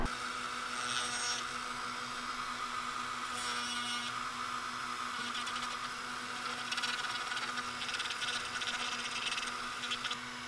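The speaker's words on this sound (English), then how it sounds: "like circular burr bit in the Dremel" A Dremel fitted with a circular burr bit carves a wooden larva fishing lure, giving a steady high whine with bursts of gritty grinding as the bit bites the wood, close and continuous with no speech.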